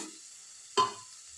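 Carrots tossed into a hot frying pan and stirred for Indian-style masala vegetable pasta, giving one short, fairly loud sizzling burst between quiet moments.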